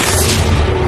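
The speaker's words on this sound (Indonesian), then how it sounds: "sniper menembaknya mati" A loud, booming sniper gunshot in a film scene hits hard and close, with a heavy low rumble filling the whole moment.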